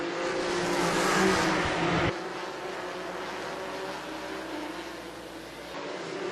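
ISCAR-DASH Series race cars passing the start-finish line on an Orange County oval, with a loud engine roar that swells and then drops abruptly, leaving a steadier distant engine drone.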